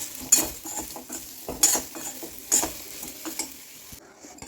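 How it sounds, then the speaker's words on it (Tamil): Sweet potato stir-fry with spice powder being stirred in a pan, soft scraping strokes recurring about once a second over a low sizzle, with faint clinks of the utensil. "இப்போ நல்லா கிளறிட்டு இறக்கிக்கலாம்"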